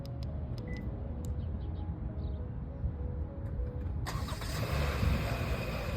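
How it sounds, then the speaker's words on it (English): A Hyundai car engine started by remote start: a quiet stretch with a few faint beeps, then the engine cranks and catches, settling into a steady idle at close range, with no talking. "to start our vehicle, we need to hit this lock button twice and then hold this remote start button down here"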